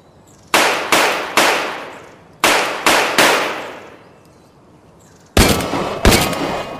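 Sharp .22 caliber gunshots from a VR shooting game ring out in two groups of three and then a pair, each crack loud and close with a short decaying tail, and quiet gaps between the volleys.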